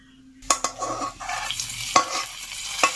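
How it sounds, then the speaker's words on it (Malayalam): Shallots, dried chillies and curry leaves are tempered in a pan for a Kerala-style anchovy curry with ground coconut. Sharp utensil clinks and stirring scrapes land at a few points over a steady low sizzle, close up, with no talking. "നമ്മൾ ചെറിയുള്ളി ചെറുതായി അരിഞ്ഞ് ഉണക്കമുളകും വേപ്പിലയിട്ട് നമ്മൾ ഇതൊന്ന് താളിച്ചു വയ്ക്കണം"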